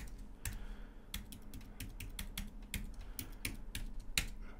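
A password is typed on a computer keyboard: quick, irregular clicks and key taps close by, with no talking.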